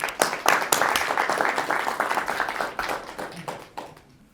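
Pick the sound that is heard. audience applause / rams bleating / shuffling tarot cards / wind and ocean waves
audience applause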